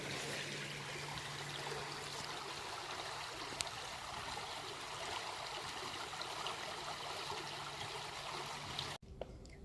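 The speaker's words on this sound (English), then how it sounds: "there's been springs and rivers and trickling sounds of waterfalls everywhere I've gone" Steady trickling of a stream, a continuous close watery babble with a faint tonal hum underneath, cutting off abruptly near the end.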